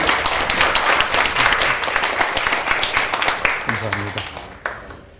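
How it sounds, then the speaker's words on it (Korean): An audience at a Korean lecture by an art critic claps to welcome the speaker. Dense applause starts loud and gradually thins and fades, and a voice begins speaking just as the clapping dies away. "선생님을 큰 박수로 맞아주시기 바랍니다."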